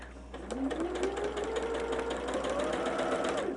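A sewing machine runs steadily, stitching a quilt seam on a barn star sampler, with a rising, whirring motor hum lasting a few seconds and no talk over it.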